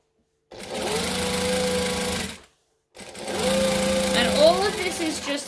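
A sewing machine top stitches knit fabric in two steady runs of about two seconds each, separated by a short pause, close and clear with a motor whine.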